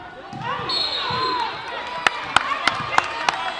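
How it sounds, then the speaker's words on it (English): A girls' basketball game with the crowd and bench cheering and shouting, whistle-like squeals and voices at first, then sharp rhythmic ball bounces or sneaker squeaks ringing through the gym under the noise. "And the crowd is getting into it. The bench is getting into it."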